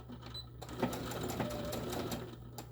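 A sewing machine stitches a tote bag in a fast, steady run of mechanical rattles at fairly low volume, starting after a brief quiet moment.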